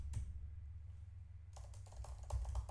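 A computer keyboard clicks close by: one early tap, a quiet pause, then a quick run of repeated keystrokes as text is deleted, with no voice.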